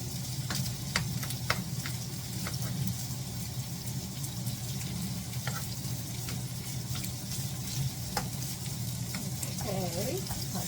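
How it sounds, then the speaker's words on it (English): Andouille sausage pieces sautéing in a skillet, a soft steady sizzle with scattered clicks of a utensil stirring and scraping the pan, no talking. "We're just going to saute this until it warms up all the way around."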